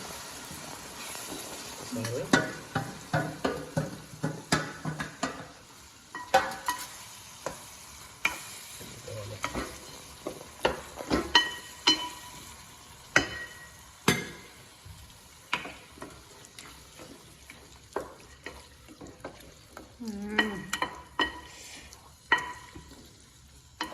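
Marinated mutton sizzles in a pan with cooked tomato as it is stirred, with repeated scraping and clinking strokes at an irregular pace over a soft, steady frying hiss, close up.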